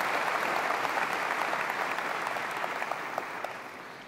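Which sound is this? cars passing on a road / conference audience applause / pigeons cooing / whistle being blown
conference audience applause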